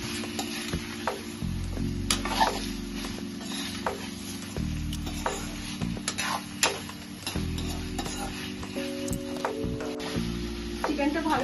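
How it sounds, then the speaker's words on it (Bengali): Chicken pieces fry with green chillies in a pan for a mustard and curry-leaf chicken dish, giving a steady close sizzle with occasional stirring scrapes under soft background music. "চিকেনটা ভালো করে ভেজে নিয়েছি"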